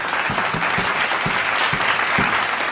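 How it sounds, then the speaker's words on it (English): An audience at a school house and badge ceremony claps steadily for the student leaders, a sustained wash of applause from a crowd with a few distinct, sharper claps standing out. "Let us give them a huge round of applause for their wonderful service."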